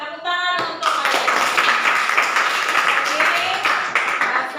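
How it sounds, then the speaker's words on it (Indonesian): Students applauding in a classroom during a lesson, a brief voice or tone at the start giving way to close, steady group clapping that carries on to the end. "tepuk tangan untuk kalian"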